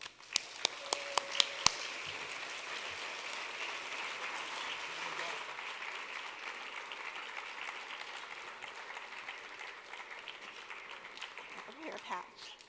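A crowd at Consumer Watchdog's Rage for Justice Awards ceremony bursts into sustained applause, opening with a few distinct claps and then settling into a dense, steady roar of clapping with faint voices underneath.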